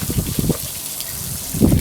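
Water drains out through the popped discharge valves of a T6 fire engine's tank during winterizing, heard as low, uneven sloshing and gushing bursts.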